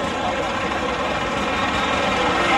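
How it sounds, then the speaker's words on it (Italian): A tractor hauling freshly baled hay or straw from a baler across a field, a steady rumbling diesel engine drone held at constant loudness throughout. "un trattore che trasporta proprio il prodotto che è stato fatto dalla imballatrice"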